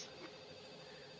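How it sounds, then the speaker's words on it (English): A phone rings softly in the Katawa Shoujo visual novel game, a faint, steady ringtone with no speech over it. "A familiar soft ringing begins to sound from Lily's side."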